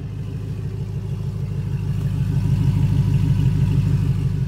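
A 2006 Hummer H2 Limited engine runs steadily close by with a deep, throaty exhaust rumble that swells slightly in volume, with no talking.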